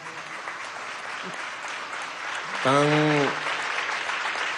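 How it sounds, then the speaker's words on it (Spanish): Applause for young people at a Venezuelan government youth employment event, a dense wash of clapping heard throughout, with a voice briefly speaking over it partway through. "desde aquí le damos un aplauso a la juventud de Falcón"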